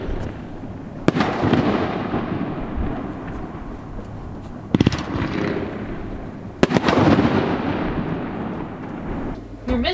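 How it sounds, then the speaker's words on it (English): New Year's Eve fireworks set off near a dock, booming and crackling continuously, with a few sharp loud bangs standing out above the steady rumble of distant bursts. "they were setting off fireworks close to the dock"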